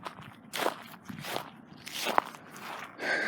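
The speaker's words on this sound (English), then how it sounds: "You can hear the crunching." Footsteps crunch across goat head burrs scattered over a parking lot, several separate treads with a sharp crackle near the middle, fairly close and moderately quiet.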